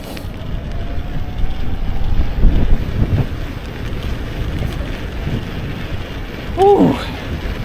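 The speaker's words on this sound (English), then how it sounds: "So windy" Strong wind buffets the microphone during an outdoor ride, a loud, continuous low rumble that swells and fades, with a brief voice-like sound near the end.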